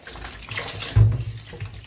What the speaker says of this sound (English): I'll also be washing my lemon in running water.